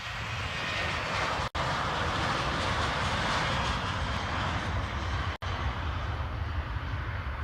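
The king's private plane takes off, bound for Greece, its engines a loud, steady roar that holds throughout, broken by two abrupt momentary dropouts.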